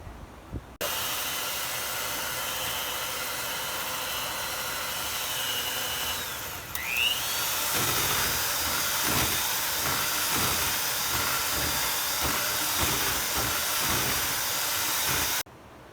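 Stand mixer beating bagel dough at medium speed, a steady loud whirring drone that starts abruptly, shifts slightly partway through and carries rhythmic thumping knocks, then stops at the end.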